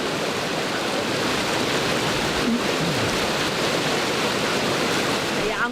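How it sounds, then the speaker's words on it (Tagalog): Rushing water of an underground river in a cave during canyoneering, a strong current roaring as a dense, continuous close-up wash with no break. "sa bahaging ito ng canyoneering, lumalakas ang agos"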